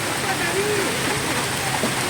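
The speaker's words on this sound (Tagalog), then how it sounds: "Ayun na, bumuhos na ang ulan." Heavy rain pouring down steadily on a calamansi grove during fruit picking, a dense continuous hiss that stays loud and constant throughout with no break.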